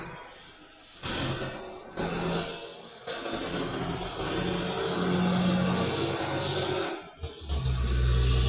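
Race car engine in the Asphalt 8 racing game, a steady revving drone with shifting pitch and sudden bursts as the car accelerates, loud and continuous with brief dips.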